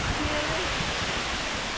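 A waterfall pours into an Australian swimming hole, a dense steady rush of broadband noise close by that covers everything, with a faint voice barely showing underneath.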